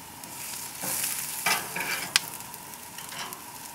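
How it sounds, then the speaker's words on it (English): Onions cooking on a grill give off a soft, steady sizzle with a couple of brief louder hisses and a sharp tick, close but fairly quiet. "the onions, you want to separate them, let them grill nicely"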